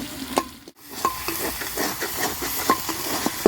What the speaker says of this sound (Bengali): মশলাটা খুব ভালো করে কষে নিয়েছি